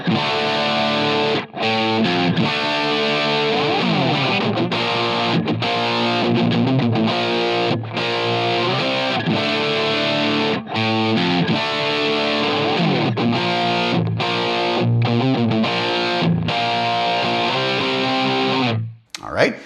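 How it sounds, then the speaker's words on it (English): Heavily distorted electric guitar through a Line 6 Helix with compressor and EQ, playing chugging riffs and chords, compressed and punchy, with brief stops between phrases and a sustained ending. "So let's turn the compressor and the EQ on with those little"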